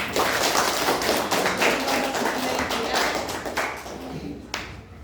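A classroom of students clapping hands together during a lesson, a busy patter of claps that gradually thins and fades, with a few sharp final claps at the end before quiet.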